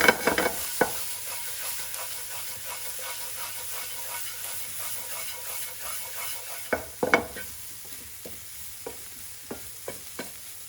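Onions fry with curry powder in a pan as a vegetable samosa filling, making a constant soft sizzle while a spoon scrapes and knocks against the pan in irregular strokes.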